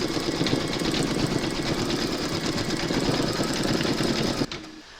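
An embroidery machine stitching an in-the-hoop bunny slipper design runs a fast, steady mechanical chatter of needle strokes, close and continuous, then stops abruptly near the end.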